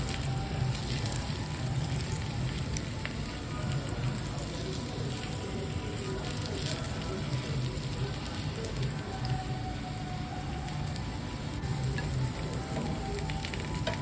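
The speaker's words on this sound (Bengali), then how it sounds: "আলুটাকেও ভেজে নিলাম" Potato pieces frying in hot oil with an egg dish, a steady dense sizzle and crackle like rain on a surface, close and continuous throughout with no talk.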